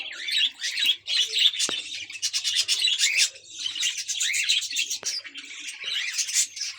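Dense, continuous high-pitched chirping and twittering from several cockatiels nearby, with occasional soft rustling.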